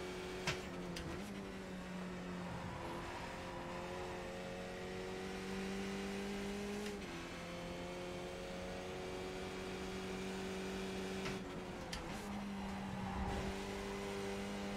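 Racing-car engine in Assetto Corsa Competizione, a steady high drone that rises through the gears with brief dips at each shift, continuous and fairly loud with no talk.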